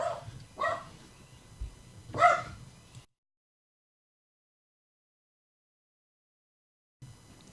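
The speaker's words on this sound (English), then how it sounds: "I'll try to mute that out when the dogs bark." A dog barks three times in quick succession, fairly near, then the sound cuts to silence for several seconds before a faint noise returns.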